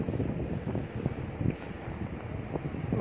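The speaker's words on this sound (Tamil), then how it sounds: "காற்று இன்றைக்கி கொஞ்சம் அதிகமாகவே இருந்துச்சு பாருங்கள்" Strong wind buffets the microphone at sea aboard a small fishing boat out for seer fish and mackerel, a steady rough roar with faint splashes and creaks underneath and no voices.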